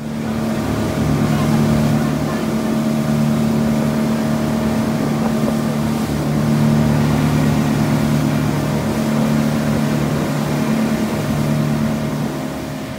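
A motorboat engine on a boat trip in the Galápagos, Ecuador, drones steadily and loudly throughout, a low constant hum with wind and water rush over it.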